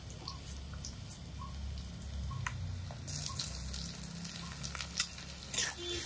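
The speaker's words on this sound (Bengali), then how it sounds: "পেঁয়াজটা কুচি করে নিচ্ছি, একবার আর কোথাও নামাবো না, কড়াইতেই দিব" Chopped onions frying in a wok over the stove, a continuous close sizzle with crackling pops that grows slightly louder toward the end.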